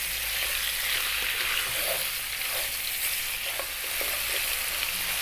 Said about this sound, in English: we're going to throw this around in the pan for about 5 or 6 minutes. Get a nice bit of colour on it and seal it a little bit